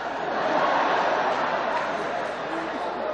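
A loud, feisty crowd at Barack Obama's speech in Flint, a dense wash of chatter, shouting and cheering that stays steady throughout, with no single voice standing out.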